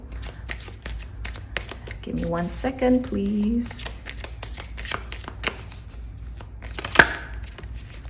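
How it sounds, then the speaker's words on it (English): New tarot cards that stick together are shuffled with quick, close, papery riffles and taps, then a sharp snap near the end. A voice speaks briefly in the middle. "these cards are a little bit new as well, so they're all sticking together, hence why it's a little bit harder to shuffle"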